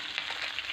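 Red tilapia fish fries in hot cooking oil in a pan, giving a brief, steady crackling sizzle with no voices.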